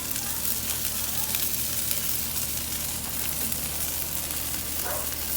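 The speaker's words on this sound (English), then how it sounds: "About 325. Sizzling just right." Chicken lollipops fry in hot oil at about 325 degrees, giving a dense, continuous sizzle close up with steady crackling throughout.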